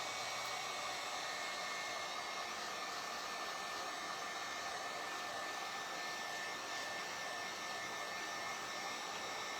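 A hair dryer blows steadily on small craft pieces for a Christmas dog box, a continuous even whirring hum with a high whine, close and unbroken throughout.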